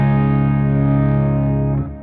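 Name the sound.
guitar through modeled JHS Bender fuzz effect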